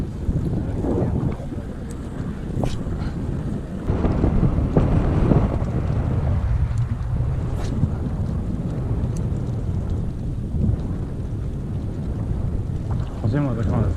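Wind blows hard across a fishing boat on open water, a steady, loud broadband rumble with gusting swells that lasts the whole stretch and buffets the microphone.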